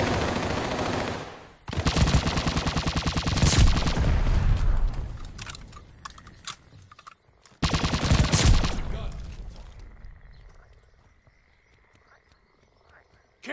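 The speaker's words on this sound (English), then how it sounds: "Hardpoint's under fire." Gunfire in a multiplayer hardpoint match in a video game, loud sustained bursts of automatic fire with sharp single shots, broken by short pauses and fading into scattered distant pops.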